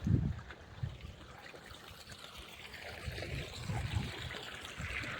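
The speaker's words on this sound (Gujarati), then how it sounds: "સરસ મજાનું પાણી આવે છે" Water flows from a pump motor into an irrigation channel in a farm field, a steady close trickling and gurgling stream with low splashy bursts, no voices.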